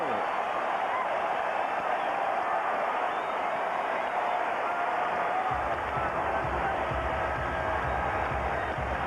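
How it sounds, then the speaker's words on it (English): Arena crowd at a 1991 NBA basketball game between the Lakers and Blazers in Portland, a broad, steady roar of cheering that swells partway through, with no speech over it. "The crowd is on their feet"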